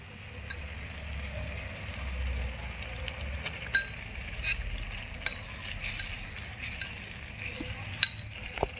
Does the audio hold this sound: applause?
no